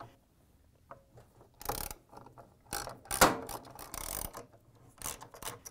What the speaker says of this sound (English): To remove the rear counterweight, we need to take out the three 13mm bolts.